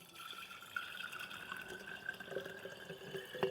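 Water trickles and splashes into a jar of sprouting seeds, a soft, continuous pour with small drips, faint and close, with no voices.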